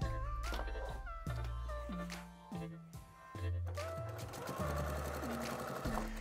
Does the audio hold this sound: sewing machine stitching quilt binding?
yes